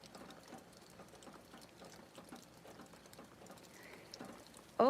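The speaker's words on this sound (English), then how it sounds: "Doesn't sound like a bad rain. Maybe it's just one of those straight down popcorn showers" A light rain shower falling outside, a soft steady patter of drops across the whole stretch, fairly quiet and close, ending in a brief louder burst.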